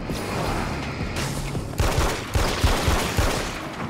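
A small handgun fires repeated sharp shots in Alan Wake's American Nightmare, a series of close, punchy bangs over a low background rumble in an observatory setting.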